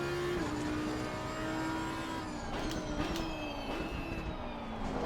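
Porsche race car engine in Assetto Corsa Competizione on Xbox Series X at Misano, a steady high engine whine with pitch shifts as it brakes and changes gear, continuous and close.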